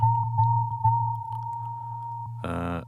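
A steady, pure synthesizer lead tone from a Studiologic Sledge holds at one pitch over a low hum, then a brighter, buzzier burst enters near the end.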